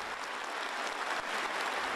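Steady, dense clapping from an audience giving a standing ovation at a performance in Pyongyang, a continuous wash of many hands with no voices.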